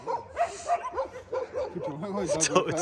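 Dogs bark, yip and whine outdoors in quick, overlapping bursts amid human talk, sounding fairly close and excited.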